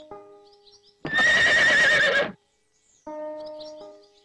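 A mare gives one loud, close whinny lasting over a second, standing alone between quieter stretches of low tonal background sound.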